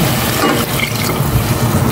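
Water runs steadily into a pan for a couple of seconds, a continuous close splashing pour with a faint hiss underneath.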